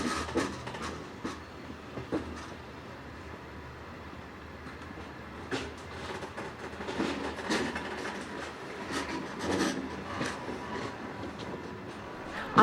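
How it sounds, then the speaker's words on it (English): A train rolls steadily along with rumbling wheels and irregular clicks and clacks on the rails, no voices. "The train slides between ghostly warehouses."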